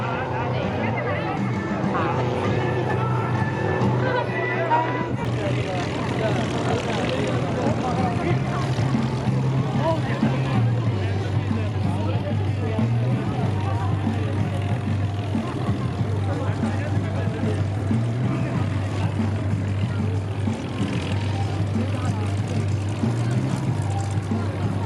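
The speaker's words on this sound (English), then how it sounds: "Brad Wursten just side slipping the airplane down the show line." An MX2 aerobatic propeller airplane's engine hums steadily with a low droning tone that shifts in pitch as it side-slips past along an airshow line, while an announcer talks over it.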